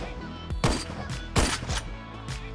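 Gunshots from a first-person ghost-hunting game set in a haunted mansion, three loud bursts spaced irregularly over a low rumbling background.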